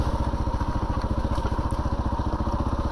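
A 2022 Kawasaki KLR 650 being ridden, its single-cylinder engine giving a close, loud, rapid and even thumping throb that runs steadily the whole time.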